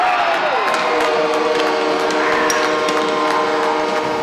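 A hockey arena crowd roars and cheers loudly and without a break, with a sustained tonal blare ringing over the noise.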